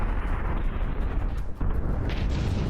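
Cram cannon shells striking battleships in From the Depths, a continuous rumbling barrage of heavy booms and explosions with a sharp impact near the middle, loud and dense.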